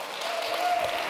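Applause from a conference audience welcoming a keynote speaker, a steady wash of clapping hands that holds at an even level throughout, with no individual voices standing out.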